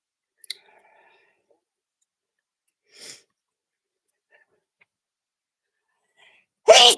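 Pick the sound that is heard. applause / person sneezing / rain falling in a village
person sneezing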